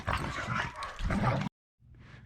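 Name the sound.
dogs barking and whimpering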